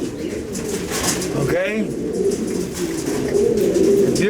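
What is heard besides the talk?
pigeons cooing at a pigeon pet shop in Florida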